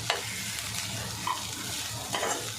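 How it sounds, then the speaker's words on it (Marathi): Egg bhurji stirred and frying in a pan over a high gas flame, a steady close sizzle with scraping spatula strokes near the start, middle and end. "गॅसची फ्लेम फास्ट ठेवायची हलवून घ्यायचं चांगलं"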